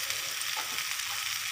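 Ivy gourd (kundru) sabzi frying with mustard seeds in a pan makes a short, steady hiss of close sizzling with light stirring.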